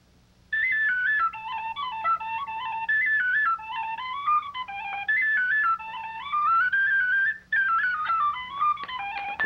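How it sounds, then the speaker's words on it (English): An Irish reel on tin whistle with guitar accompaniment, played for Irish step dancers at a St. Patrick's Day broadcast: a bright, busy whistle melody runs nearly continuously over a steady low hum, with brief gaps, no talking. "The dancers will be accompanied by Mary Meyer on the tin whistle and Paul McHugh on guitar."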